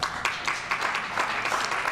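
An audience claps steadily through an announcement about COVID-19 vaccine distribution at an event with Chicago Mayor Lori Lightfoot; the applause is loud and close, with no talk over it.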